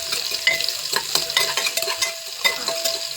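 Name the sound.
finely chopped onion added to crackling cumin, frying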